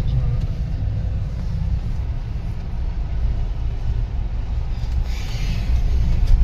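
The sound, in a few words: road traffic in a jam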